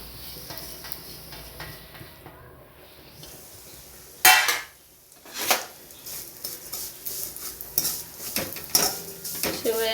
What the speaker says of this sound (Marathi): शेवया अशा छान भाजून घेणार आहोत. शेवया आपण 5 ते 7 मिनिटं लालसर अशा भाजून घेणार आहोत.